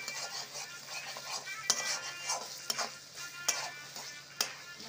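Onion, ginger, garlic and tomato fry down in a pan for a Bengali fish curry, a low sizzle punctuated by sharp clinks and scrapes of a spatula stirring at irregular intervals.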